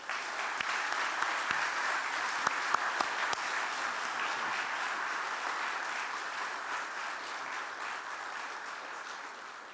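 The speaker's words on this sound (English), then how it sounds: "And now I'd like to also invite, with your applause, Dr. George to the stage today." Audience in a chapel applauding as a speaker is welcomed to the stage, steady dense clapping with a few sharp individual claps early on, continuing for nearly ten seconds.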